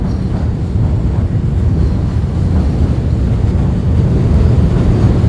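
Heavy low rumble of a train rolling past close by on a Kensington, Philadelphia street, a steady loud roar with some wind buffeting and no voices.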